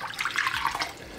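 Hot water pours from a container into a bowl of salt to make brine for smoking fish, a brief, close, splashy stream lasting about a second.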